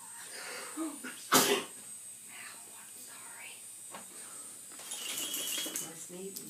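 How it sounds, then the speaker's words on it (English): A single sharp, close sneeze from an adult bursts out early, followed by quiet murmuring and soft rustling indoors while someone plays looking for toys. "My sneeze is going to be on the video."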